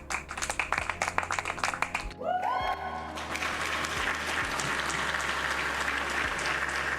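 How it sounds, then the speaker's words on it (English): Round of applause: a few distinct, close claps come first, then a short rising tonal sweep, then a fuller and steady wash of crowd clapping. "Round of applause."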